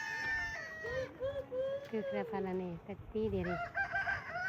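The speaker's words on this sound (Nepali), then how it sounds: "यो चाहिँ लोकल कुखुराहरू गाउँको" Local village chickens on a hillside farm in Rukum, Nepal, clucking and crowing in a near, busy run of calls, with people talking over them throughout.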